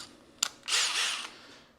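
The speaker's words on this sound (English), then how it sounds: "So going with a 13/64 drill bit here," Power drill with a 13/64 bit drilling into metal, a short click followed by a brief whirring burst of about half a second, fairly faint and alone.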